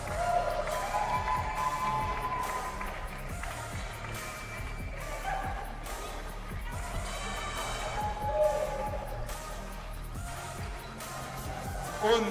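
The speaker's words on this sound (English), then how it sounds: "Je vous prie de mettre en place un tonnerre d'applaudissements pour l'équipe de Suisse." Stadium crowd cheering and applauding the Swiss team before a Switzerland versus Germany women's international football match, a broad roar of clapping and voices held under a steady hum throughout.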